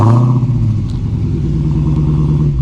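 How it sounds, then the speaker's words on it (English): A Dodge Challenger SRT Hellcat Jailbreak idles after a remote start, its supercharged V8 rumbling deep and loud through a dual exhaust with a steady low throb, close by and with no talking. "that dual exhaust, which we can take a listen to because this has remote start"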